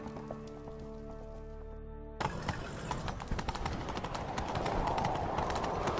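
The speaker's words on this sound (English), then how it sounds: "Grab a horse, we'll chase him down." Horse galloping in The Witcher 3, steady rapid hoofbeats that kick in after a tonal music passage and continue at a quick rhythm under ambient game sound.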